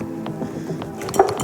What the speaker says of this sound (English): I'm just gonna whisk this up